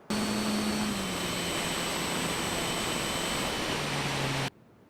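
E-flite Valiant 1.3m RC plane flying in to land over a beach, its electric motor giving a steady, loud whine with a shifting tone that runs without break, then cuts off near the end.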